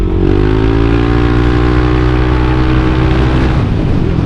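A stock Yamaha Aerox 155 VVA scooter with a CVT is ridden in a test ride. Its engine drones loudly and steadily, rising in pitch as it accelerates, with wind rush and no talk.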